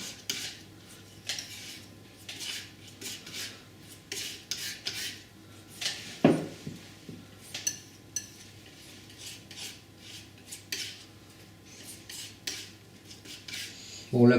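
An oil painter works raw sienna into a colour mix with a palette knife, giving soft scraping and rubbing strokes in an irregular rhythm, close up and moderately quiet, with one sharper knock partway through.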